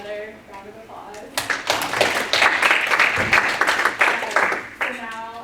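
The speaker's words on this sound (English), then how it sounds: "give you another round of applause" Applause at a university women's and gender studies undergraduate conference swells into a dense, loud round of clapping that lasts several seconds before tapering off as voices return around it.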